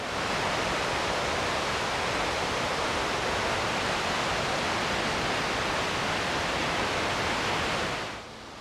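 A waterfall on the Gaula River trail gives a dense, steady roar of rushing water, loud and unbroken, dropping away abruptly in the final moment.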